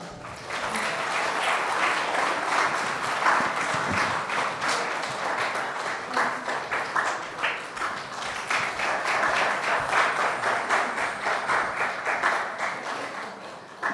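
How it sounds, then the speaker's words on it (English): Steady applause from a recital audience at an annual veena concert in Plano, filling the hall for the full stretch with dense clapping that swells and eases slightly, no voices over it. "A round of applause for Praveen."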